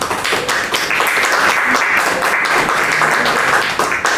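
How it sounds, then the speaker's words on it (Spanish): An audience at a health forum in Peru applauds a welcomed guest, dense continuous clapping from many hands filling the room, loud and close, with no voices over it. "Aplausos."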